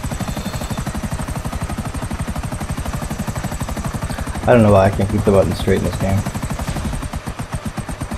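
Helicopter rotor in the video game Grand Theft Auto V, a steady fast chopping thump throughout, with someone talking over it midway.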